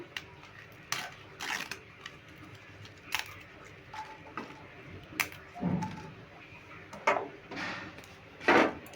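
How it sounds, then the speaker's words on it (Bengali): Dry bay leaves snapped by hand into a hot wok alongside dried red chillies for chaat masala: irregular crisp cracks and brittle crackles, close and sparse, with no talking. "তেজপাতাগুলো আমি একটু ভেঙে দিচ্ছি"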